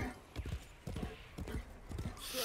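Horse hooves in the video game Warframe clip-clop in a quick, uneven rhythm, fairly close, with a rising whoosh of noise at the end.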